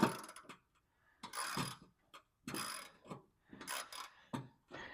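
Close, sharp ratcheting clicks from a 1/2 inch socket ratchet turning the mower spindle bolts on a Cub Cadet Ultima ZT1 54-inch zero-turn mower, coming in several short bursts with quiet gaps between them.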